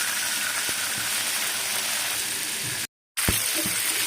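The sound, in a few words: snakehead fish frying in oil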